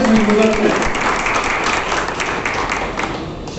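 Audience applause at a welcome gathering for a goldsmiths' awareness march in Chandauli, Uttar Pradesh, a dense, steady clatter of clapping that stays loud through the whole stretch and slowly thins toward the end.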